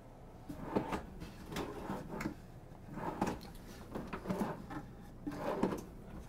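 Drawers in a closet of a 2021 Newmar Supreme Aire 4051, a 40-foot motorhome, slide open and shut several times in a row, giving soft wooden rumbles and light knocks at close range.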